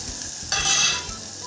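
Ground paste hits hot tempering oil with hing and curry leaves for a Marathi dal dish, bursting into a loud, close sizzle midway that swells and then eases off, with no talking.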